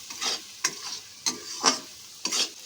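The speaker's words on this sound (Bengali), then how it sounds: "এবার এটাকে ভালো করে আমরা কষবো।" Yam and prawns with ground cumin, coriander and a splash of water being stir-fried in a pan, with four or five scraping stirs over a soft steady sizzle, close and alone.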